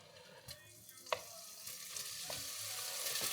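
Bacon sizzles in a pan for a beef bourguignon, a close, steady hiss of frying fat punctuated by a few sharp clinks and scrapes of stirring, with no voices.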